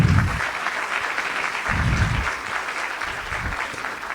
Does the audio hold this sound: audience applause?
yes